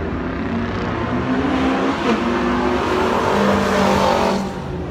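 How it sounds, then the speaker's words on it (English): Cars at a busy JDM car meet and drag event roar loudly and continuously, engines droning and rising as they race nearby, with no talk over the noise. "As you guys will see now, some racing."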